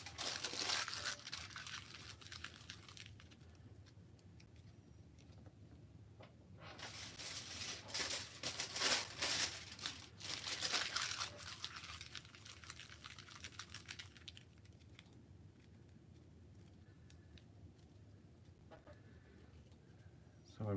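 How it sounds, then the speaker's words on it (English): Sheets of aluminium foil are crumpled and rolled by hand into balls of different sizes, making close bursts of crinkling and crunching separated by quieter stretches. "Just doing some different size balls of foil to do for the arms."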